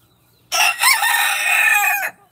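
A rooster crows loudly and close by in a camper-side yard, one sustained cock-a-doodle-doo lasting about a second and a half, with no talking.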